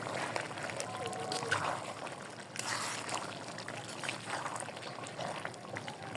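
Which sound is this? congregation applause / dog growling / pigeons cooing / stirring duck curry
stirring duck curry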